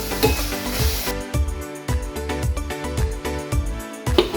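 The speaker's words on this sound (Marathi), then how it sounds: "आता ही करंजी छान पैकी फ्राय करून घ्यायची" Dried karandi shrimp frying in a pan for a shrimp and cauliflower dish, a steady close sizzle broken by repeated scraping strokes of a stirring utensil, with no voices.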